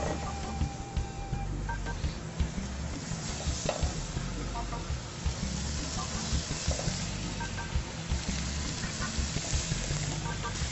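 Meat searing in a very hot, dry restaurant pan with no added oil, its fat rendering out in a steady, close sizzle with stirring scrapes and occasional pops, loud and continuous throughout.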